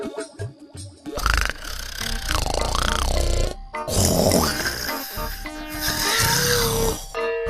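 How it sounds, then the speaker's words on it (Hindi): Loud, exaggerated snoring for a sleeping character in a Hindi story, drawn-out rasping snorts repeating in three long breaths with short pauses between, close and grunting like a pig. "देखा तो इस इंस्पेक्टर को कैसे खर्राटे मारकर सो रहा है।"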